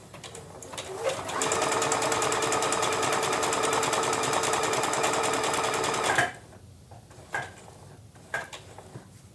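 A Bernette Chicago sewing machine stitches appliqué in one steady, loud, rapid whirring run of about five seconds. It stops abruptly and a few soft handling clicks follow.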